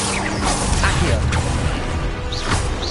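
An Accio summoning spell cast in Hogwarts Legacy comes through as a loud, dense whooshing rush with crashing, grinding texture, continuous for about three seconds over busy game sound.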